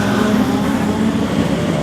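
Modified sedan race cars roaring around a dirt speedway at Kingaroy during a Golden Helmet Series race, a loud continuous blend of engines without a break.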